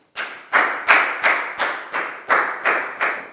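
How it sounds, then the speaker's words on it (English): A classroom of students applauds a classmate in eight loud, separate, evenly spaced group claps in a steady rhythm, each clap decaying quickly before the next. "Big round of applause for Prau,"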